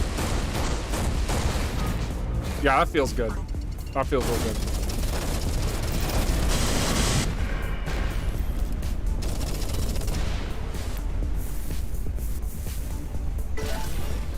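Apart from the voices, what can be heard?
flak cannon firing in video game Everspace 2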